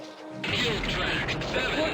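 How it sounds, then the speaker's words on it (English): Missile strike destroying a chemical plant in the game SCS Fleet Command, a sudden crashing explosion that rolls on with a heavy rumble, with a voice speaking over it. "Hit! The chemical plant is destroyed."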